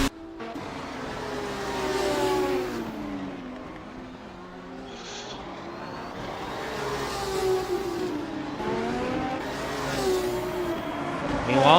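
Race car engine from a Formula Hololive sim race at Phillip Island, revving and shifting through gears under steady commentary voices, holding a loud, continuous drone as it drives toward the finish line.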